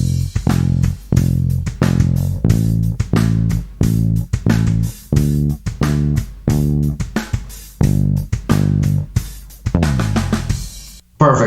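Bass guitar plays a song intro, punchy plucked notes in a steady repeating rhythm with brief gaps, a slide at the end of the phrase, loud and close with no speech.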